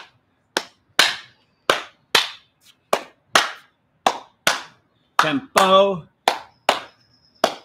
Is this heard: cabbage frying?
no